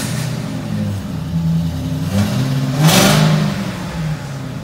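A 2012 FPV GT R-Spec engine revs through its exhaust up close, a deep idle rumble that swells in a couple of loud throttle blips before settling back, with no talking.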